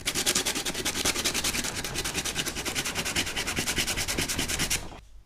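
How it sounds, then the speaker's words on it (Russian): Hand sanding with 120-grit sandpaper over a dried homemade wood filler of PVA glue, sawdust and chalk: fast, even, close rasping strokes in a steady rhythm that stop abruptly near the end. "Теперь будем наждачкой пробовать. Наждачкой номер 120."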